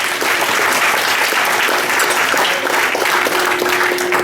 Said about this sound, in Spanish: merece una vez más nuestros aplausos